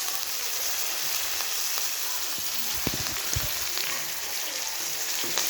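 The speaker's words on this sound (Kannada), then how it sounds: "ಹಾಗೆ ಈಗ ಟೊಮೊಟೊ ಮತ್ತು ಈರುಳ್ಳಿ ಚೆನ್ನಾಗಿ ಫ್ರೈ ಆಗಬೇಕು." Tomato and onion frying in a pan for lemon rice, a steady soft sizzle with faint crackles and occasional stirring clicks, close and alone without talk.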